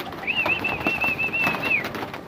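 Racing pigeons released on a loft toss, with one sustained, fairly loud whistling or cooing call held steady for about a second and a half over faint background noise.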